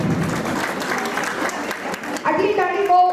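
An audience applauds a saree shop owner with a burst of dense, close clapping that fades after about two seconds, when a voice begins speaking.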